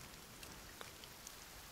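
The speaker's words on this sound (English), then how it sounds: "And it's nighttime and it's raining." Night rain in the survival video game The Forest falls as a faint, steady hiss with scattered soft droplet taps, continuous and quiet, with no voices.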